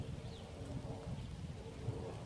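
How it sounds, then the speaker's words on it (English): Rain showers fall steadily in Richmond Park, a low, constant wash of drops with a faint wind-like rumble beneath, heard close and unbroken with no voices. "Rain's coming down a bit more now"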